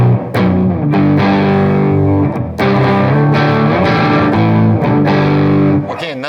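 Distorted electric guitar played through a MOD Devices patch with an octave-down effect in parallel, loud chugging chords and sustained notes with brief gaps between phrases.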